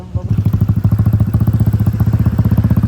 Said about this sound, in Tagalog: Ang motor!